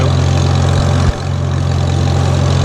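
A 1941 Farmall H tractor engine idles close by with a steady, loud low chugging throb, one brief dip in the middle, then running evenly on.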